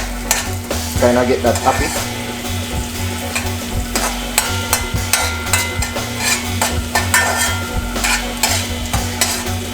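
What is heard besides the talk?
stirring scallion (green onion) frying in a pan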